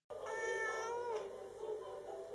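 A cat meows in one drawn-out, wavering call lasting about two seconds, close and clear with no voices over it.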